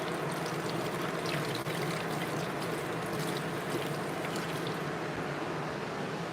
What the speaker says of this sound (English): I'm gonna wash my whisk out.